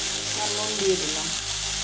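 Chopped onion frying in a pan with turmeric and salt, being stirred during a taro-leaf dish: a loud, steady hiss and sizzle that runs unbroken for the whole moment, with no talking.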